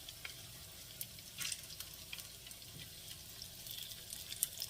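Zucchini fritters sizzle and crackle in hot oil, a steady close hiss with small popping spatters throughout and no talk.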